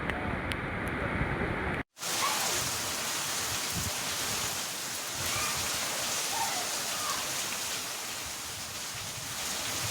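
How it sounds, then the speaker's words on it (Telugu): Continuous heavy rain driven by Cyclone Montha on the Andhra Pradesh coast, a loud, unbroken wash of falling water mixed with wind noise, cut off briefly near the start before resuming steadily. "తుఫాన్ కారణంగా ఎడతెరిపి లేకుండా వర్షం కురుస్తోంది"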